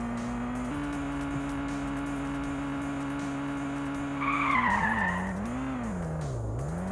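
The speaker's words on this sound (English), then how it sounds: "And this car kinda goes crazy." A car in the Kitten Cat Simulator video game skids with a long steady engine drone, then a wavering tire squeal rises and dips as the vehicle slides out of control.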